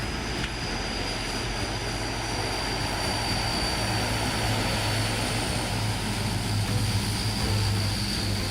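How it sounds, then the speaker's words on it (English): An Ilyushin IL-18 Coot turboprop aborting its takeoff on a runway, a steady loud propeller and engine roar that holds throughout with no talking. "An Ilyushin IL-18 Coot aborts takeoff."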